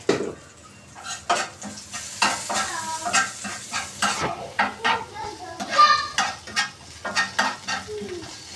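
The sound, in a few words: onions frying in a pan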